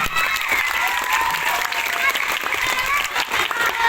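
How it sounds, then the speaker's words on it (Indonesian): Schoolchildren at an elementary school Isra Miraj event clap together in a lively, continuous burst, with voices mixed into the applause throughout. "Tepuk tangan buat kita semua."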